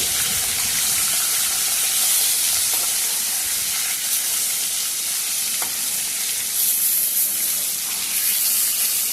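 Pieces of katla fish fry in a pan with a loud, steady sizzle and hiss that continues evenly throughout, close up and with no talking.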